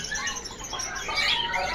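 A three-month-old songbird in a bird shop gives quick, high chirps, several short calls close by over a busy shop background.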